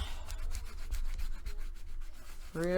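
A burnishing tool rubs back and forth across paper in quick, close scraping strokes, and a brief voice comes in at the very end.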